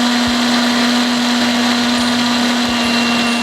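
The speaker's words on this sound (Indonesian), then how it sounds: "Setelah di blender halus," A kitchen blender grinds dried red fermented rice (angkak) to a fine powder, its motor whirring loud, close and unbroken with a steady high-pitched whine throughout.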